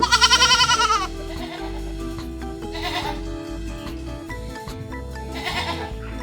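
Goats on a Filipino farm being given B-complex injections; a loud, quavering goat bleat opens, followed by further fainter bleats amid background farm noise.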